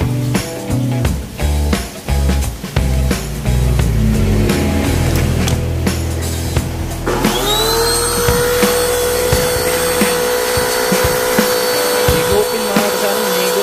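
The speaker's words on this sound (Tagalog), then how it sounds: "Vacuum." A vacuum cleaner starts partway through after a stretch of loud clattering, then keeps up a steady high whine and rushing drone to the end, close and fairly loud.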